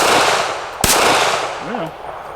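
A Ruger Security 380 pistol fires a single sharp shot at an outdoor range, a loud crack over steady background noise, followed by a brief murmured voice.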